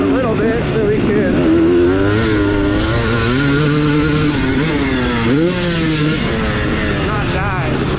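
A 2023 Gas Gas MC250 two-stroke dirt bike engine runs steadily and loud and close throughout, its pitch wavering up and down with throttle changes, while a voice talks over it.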